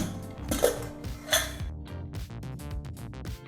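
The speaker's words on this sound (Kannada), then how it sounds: "ಈಗ ಚೆನ್ನಾಗಿ ಬೆಂದಂಥ ಈ ಬೇಳೆನ ನೀಟಾಗಿ ಮ್ಯಾಶ್ ಮಾಡ್ಕೋಬೇಕು ಅಥವಾ ಮಸ್ಕೋಬೇಕಾಗತ್ತೆ" Well-cooked lentils for palak dal mashed with a utensil in a pressure cooker, giving irregular metallic clinks and scrapes against the pot with soft squelching between them, close and moderately loud.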